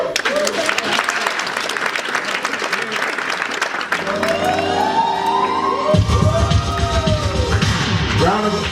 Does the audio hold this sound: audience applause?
yes